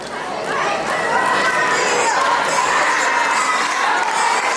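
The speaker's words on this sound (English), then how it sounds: "So you need to be cheering on your grade level" Children cheer and shout together at a school Women's History Month assembly, a loud sustained crowd roar with whoops and chatter running through the whole stretch.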